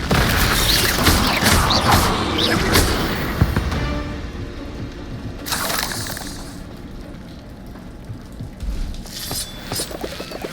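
A spell-casting effect from the Hogwarts Legacy game, a burst of magical whooshes and booming impacts amid dense combat noise, loud and busy with several crackling hits.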